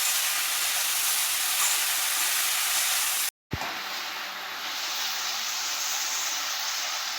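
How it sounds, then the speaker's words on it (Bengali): Taro stolons cook in a hot pan with a constant loud hiss and steamy sizzle, cut by a brief drop-out and a soft knock partway through, then the sizzle continues. "লতাগুলো দিয়ে নাড়াচাড়া করে নিচ্ছি।"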